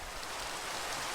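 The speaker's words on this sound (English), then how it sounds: "Oh. It's raining." Rain in a Minecraft modpack makes a dense, even hiss of falling drops, loud and unbroken across the short moment.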